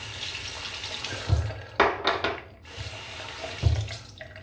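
Tap water running into a sink to rinse a shaving razor, a close continuous splashing stream with a few brighter bursts as the razor passes through the flow.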